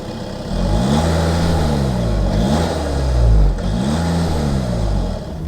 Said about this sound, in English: here's the rev that nobody really asked for